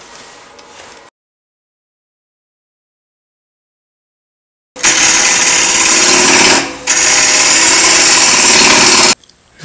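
A wood lathe spinning a goblet blank at about 1,000 RPM gives a loud, steady mechanical whir after a few seconds of silence, dips briefly about two seconds later, then runs on before stopping abruptly.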